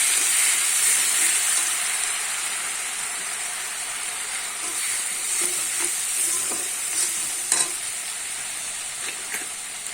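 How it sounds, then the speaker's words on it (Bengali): Onion paste stir-fried in a pan for a prawn malai curry, giving a steady close sizzle with scraping spatula strokes and a few louder clatters near the end. "দু চামচ আমি এখানে পেঁয়াজ বাটা দিয়ে দেব। দিয়ে আমি একটু নেড়ে চেড়ে নেব ভালো করে।"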